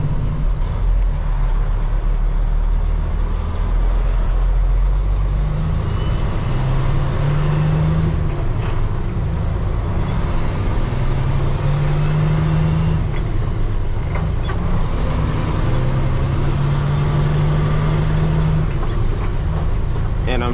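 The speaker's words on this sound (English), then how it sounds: "And I'm shifting with the Jake on, which means that for me, I gotta wait a little bit longer." Truck engine drones low and loud in the cab while downshifting with the Jake brake on, through a 13-speed gearbox on city streets in Washington D.C., with a steady rumble and periodic rising engine tones between shifts.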